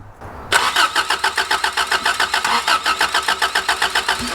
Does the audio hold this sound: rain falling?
no